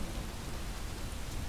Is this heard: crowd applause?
no